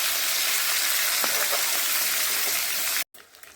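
Fish fries in oil in a pan with a steady, dense sizzle and a few crackles, then cuts off abruptly near the end and leaves faint quiet room sound.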